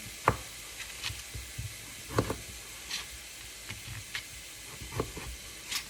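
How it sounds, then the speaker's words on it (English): A lime being quartered with a knife on a cutting board while pork tacos are prepared, giving a few sparse, soft thunks of the blade hitting the board, fairly close, against a faint hiss of kitchen background. "And then we just need to quarter our lime."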